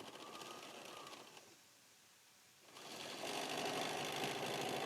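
A sewing machine stitches along a bias edge of fabric, a quiet, fast buzzing whir that fades out for a moment, then starts again louder and steadier.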